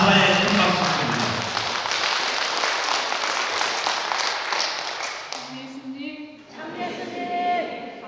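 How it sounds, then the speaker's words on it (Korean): A church hall crowd at a Korean Catholic parish retreat claps loudly and continuously for about five seconds, then the applause fades and a voice begins speaking. "감사님께 다시 한번 감사의 큰 박수 드립니다."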